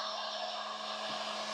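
A hair dryer blows steadily with a constant whooshing hum, close and even throughout.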